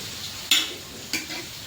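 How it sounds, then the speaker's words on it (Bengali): Potatoes seasoned with salt and turmeric frying in a pan, with a soft steady sizzle broken by two sharp scraping stirs. "এখন আলুটা যে ভাজছি"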